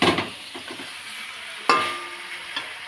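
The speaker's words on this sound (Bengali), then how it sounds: "তো এই যে পাঠার মাংস বসিয়ে দিয়েছি, কষিয়ে নেবো একটু" Tender goat meat sears in a pan with a bright crackling sizzle, a few scrapes and one louder clank of a utensil against the pan, close by and without voices.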